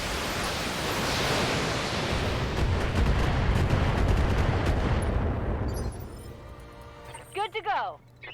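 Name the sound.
Gauss rifle called shot in the video game Battletech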